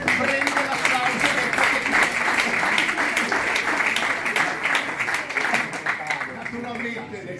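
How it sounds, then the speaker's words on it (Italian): Applause from a dinner crowd at a gala in Sarsina, a steady dense wash of many hands that holds for several seconds and eases slightly at the end, with voices talking underneath. "la signora Meris prende l'applauso"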